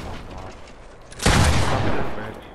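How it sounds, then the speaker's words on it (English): A sniper shot in an online shooter video game, a sudden loud boom with a rumbling tail standing out over ongoing game noise. "I got sniped."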